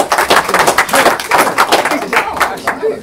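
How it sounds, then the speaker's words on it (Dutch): A small audience claps for an honoree at a presentation of the Bildtse Canon, producing close, fairly loud clapping with distinct uneven strokes and some murmuring voices. "Dus applaus voor Leendert"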